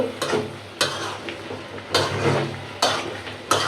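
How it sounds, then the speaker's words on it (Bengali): Turnip, beans and potato with prawns sautéing in a pan, with steady sizzling broken by several loud scraping stirs at regular intervals. "শালগম দিয়া সিম দিয়ে আলু দিয়া সুন্দর করে কষা কষা হয়ে গেছে"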